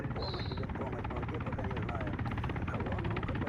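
A Mi-28 attack helicopter in a video game makes a steady, loud rotor thump and engine drone throughout, with continuous throbbing beats and a faint high whine early on.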